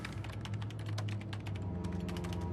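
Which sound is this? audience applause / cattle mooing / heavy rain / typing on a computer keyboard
typing on a computer keyboard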